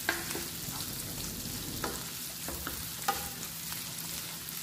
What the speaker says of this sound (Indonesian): ini dimasukin dan kita tumis sampai dia layu aja